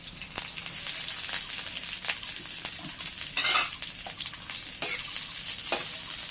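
Chopped green chili and onion fry in fully heated oil, a steady crackling sizzle broken by repeated scraping stirs of a spatula, close and fairly quiet with no voices.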